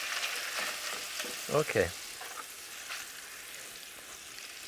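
Shrimp frying in a pan gives a steady, close sizzle throughout, with a couple of louder bursts near the middle and a brief spoken word over it.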